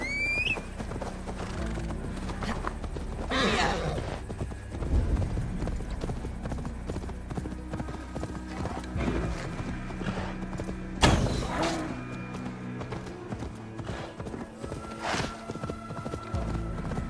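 Horse hooves clip-clop steadily in Assassin's Creed Valhalla, a continuous rhythmic trotting over game music and ambience, with a couple of whinnies and sharp effects breaking through.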